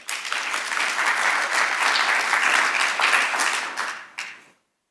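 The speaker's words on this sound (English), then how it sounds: "all of us deserve a round of applause" A summit audience at a higher-education event in South Africa bursts into sustained, dense applause that swells and holds for about four seconds, then tapers with a final brief flurry before stopping.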